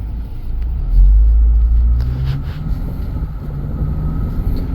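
A Ford Escape engine rumbles low and steady, swelling briefly as it accelerates, with road noise continuing throughout and no talking.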